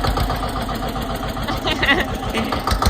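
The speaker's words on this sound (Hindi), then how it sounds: "पूरा तो अम्मा चला दे रही ट्रैक्टर" A tractor engine runs steadily and close by, its dense continuous rumble holding throughout, with voices talking over it.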